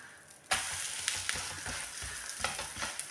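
Dosa frying in sesame oil on a hot pan just after being flipped, a steady close sizzle with brief scraping stir noises, no talking.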